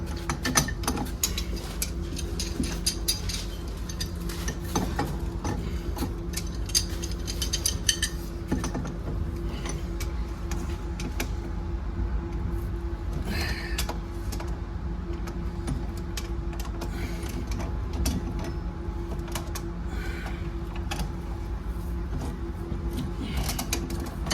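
A pump runs steadily and loudly throughout, a continuous mechanical drone with ratcheting, clattering overtones and no talking.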